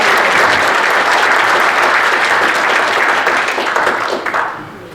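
A large audience applauds at a Korean army officers' security forum, annual general meeting and chairman inauguration ceremony. The clapping is loud, dense and sustained, then tapers slightly at the end.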